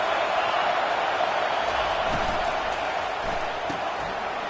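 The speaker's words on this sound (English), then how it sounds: "This crowd bringing the energy and noise early." Stadium crowd at a high school football game, a steady loud roar of cheering and noise filling the whole stretch with no break, a few thumps rising out of the din.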